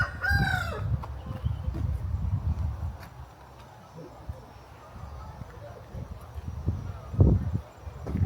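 A rooster crows near the start and chickens cluck in bursts throughout, close by, on a farm in Cambodia, with voices talking now and then.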